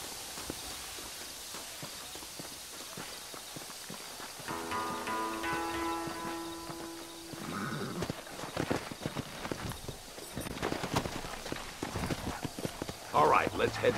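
Horse hooves clip-clop in a Western-style video game, a steady walking rhythm running under game music and a voice talking over it, with denser clatter near the end.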